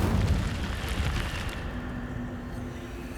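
An Incendio fire spell cast in the video game Hogwarts Legacy, a loud roaring whoosh of flame with a low rumbling burst that gradually fades.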